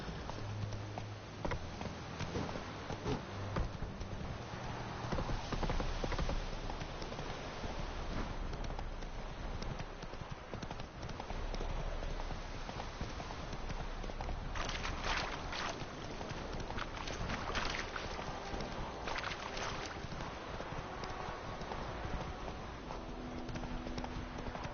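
Roach the horse's hooves clip-clop in a steady trotting rhythm in The Witcher 3 video game, moderately close, with ambient wind and water sounds and occasional short voice lines.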